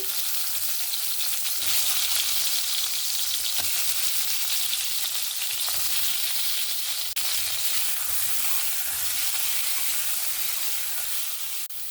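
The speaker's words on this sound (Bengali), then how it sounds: "কড়াইতে সর্ষের তেল দিয়ে দিলাম পটলগুলো ভেজে নেওয়ার জন্য" Pointed gourd frying in mustard oil in a hot wok, a steady, dense crackling sizzle that holds evenly throughout, close by, with occasional faint clicks and no talking.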